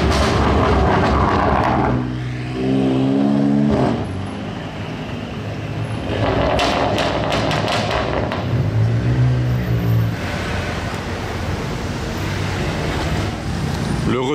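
A BMW M3 revs hard in the street at Monaco, a loud roaring engine that rises and falls amid heavy surrounding traffic noise.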